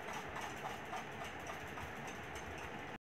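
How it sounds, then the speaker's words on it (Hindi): Sewing machine stitching the folded seam of a four-panel petticoat, running steadily as one continuous mechanical whir before stopping abruptly at the end. "उसे फोल्ड करके फिर हम सिलाई चलाएंगे।"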